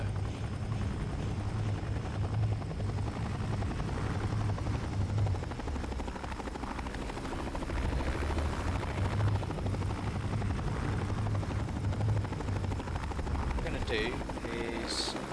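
A helicopter in the video game Entropia Universe flies with a constant, close rotor thump and engine drone throughout, with a few faint higher tones near the end.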